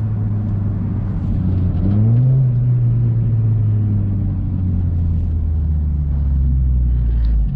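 A car with a sport exhaust and muffler idles with a deep, steady rumble close by, then rises briefly in a soft rev before settling back to a smooth, low drone.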